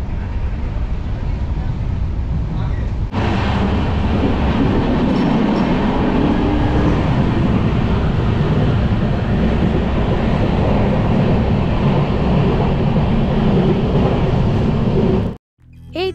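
The Vistadome coach tourist train from New Jalpaiguri to Alipurduar through the Dooars rolls along with a loud, continuous rumble and rattle of wheels on track, steady throughout before cutting off abruptly near the end.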